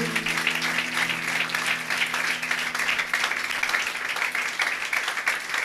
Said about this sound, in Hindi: जोरदार तालियां खुदावंद यीशु के लिए